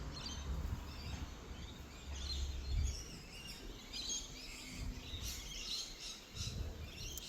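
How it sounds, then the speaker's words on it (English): Birds chirping and singing in an old park, faint scattered calls over quiet outdoor ambience with low rumbling in the background. "You can probably hear all those birds."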